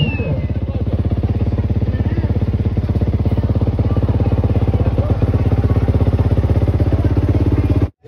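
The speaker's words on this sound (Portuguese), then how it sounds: "Acordamos com os trator aí, gradeando a pista." A tractor harrowing a motocross track, a steady, close, droning engine with rapid regular clatter from the harrow, running continuously before cutting off abruptly at the end.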